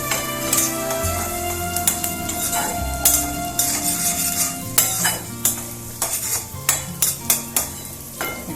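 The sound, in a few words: corn kernels being fried lightly in a pan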